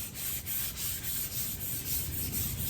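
Fine 400-grit sandpaper rubs steadily back and forth across a stained wooden cabinet shelf, a close, continuous scratchy hiss with gentle rhythmic swells from the strokes.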